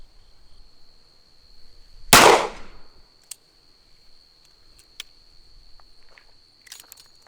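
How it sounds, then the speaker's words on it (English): A single loud gunshot from a Smith & Wesson 625 revolver chambered in .45 ACP, fired outdoors at a range, a sharp crack with a brief decaying tail, followed by a few faint clicks and handling noises. "Last shot."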